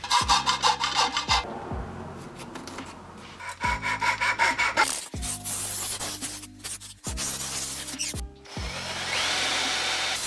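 Wood held close in a vise is worked with a hand tool in rough, rasping strokes, several bursts of scraping friction broken by brief pauses, loud and near with no talking.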